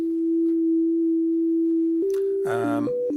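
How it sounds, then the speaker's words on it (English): A steady pure electronic tone from the Roto 1 Cosmos sequencer's built-in oscillator hums alone, then shifts pitch and briefly turns buzzy and harmonic-rich before settling on new tones. "I'm now going to turn up a built-in oscillator,"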